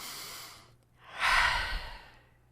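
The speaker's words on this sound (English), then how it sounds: "And then breathe." A single deep breath, a slow inhale followed by a fuller, breathy exhale, close and fairly soft, with no talking.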